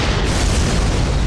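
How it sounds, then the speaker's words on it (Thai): A bomb blast in a TV drama: one loud, sustained, broadband roar that fills the entire moment with no voices over it. "ปลดได้แต่ระเบิดก็ยังทำงาน"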